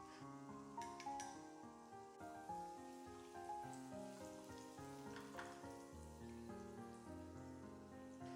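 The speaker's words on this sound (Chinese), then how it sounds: "用铲子轻轻整理一下，让土豆块均匀铺开，让它在锅里静静的煎。" Oil-coated potato chunks pan-fry in a wok, a soft crackling sizzle with light clinks, heard faintly beneath steady background music.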